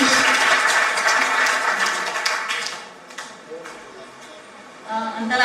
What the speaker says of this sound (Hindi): एक बार तालियां तो बजनी चाहिए फिर से